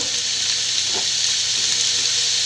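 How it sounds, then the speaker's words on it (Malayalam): Onions sautéing with salt in a pan for a Kerala egg roast, giving a steady, bright, hissing sizzle that runs continuously up close, with a faint stir near the middle and no voices. "നല്ലപോലെ വഴന്നു വരുന്നിടം വരെ നമുക്ക് ഇടയ്ക്കിടയ്ക്ക് ഇളക്കി കൊടുത്തുകൊണ്ടിരിക്കണം"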